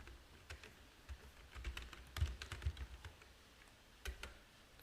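Quiet typing on a computer keyboard, an irregular patter of soft key clicks with a short rapid cluster in the middle, heard alone without speech.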